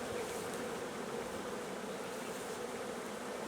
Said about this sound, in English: there's a lot of bees on this frame here still